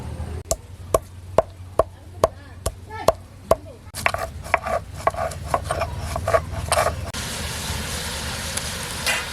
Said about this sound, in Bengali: ভেজে রাখা গরম মশলাগুলো এখন গুঁড়ো করে নেব।